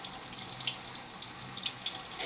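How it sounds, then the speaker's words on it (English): Tap water running steadily into a sink while hands and arms are rinsed during surgical-style scrubbing, a continuous hissing splash, close and alone. "I'm now just going to let the water run down my elbow"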